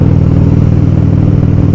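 A motorcycle is ridden on a hot summer day, its engine droning loudly and steadily at close range under a rushing wash of wind.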